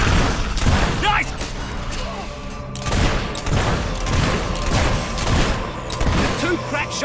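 Repeated gunfire from a battle in the video game Fable 3 comes as rapid bursts of shots in close succession over a dense backdrop of game noise, with voices talking in between.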